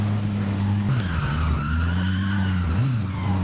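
Vehicle in Call of Duty Warzone drifting and skidding: a steady loud engine drone with harmonic bands, overlaid by scraping tire-skid noise through most of its length, a brief pitch dip near the end.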